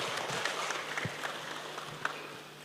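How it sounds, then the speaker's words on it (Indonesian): A church congregation clapping during an evening prayer service, faint, scattered applause from across the room. "tepuk tangan saudara."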